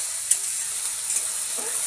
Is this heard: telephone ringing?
no